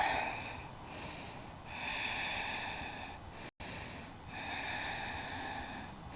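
Slow rhythmic breathing through the nose during a yoga pose, with two long audible inhale-exhale cycles that are steady and close, and no talking.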